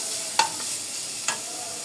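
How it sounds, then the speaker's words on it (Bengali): Chopped onion and garlic fry lightly in a pan, a soft continuous sizzle with two sharp utensil scrapes or clinks from stirring, close and fairly quiet. "পেঁয়াজ ও রসুনটাকে নাড়াচাড়া দিয়ে মিশিয়ে নিচ্ছি হালকা একটু ভেজে নিতে হবে"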